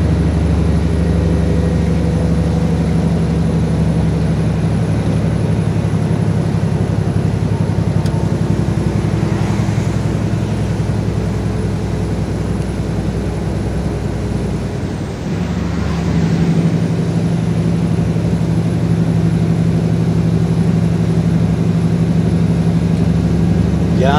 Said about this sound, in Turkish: Bu arada camı açtım, motor sesi dinleyin diye.